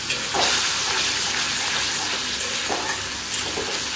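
Potatoes frying in a pan for a village-style fish curry, with a steady loud sizzle close up and occasional scraping as they are stirred.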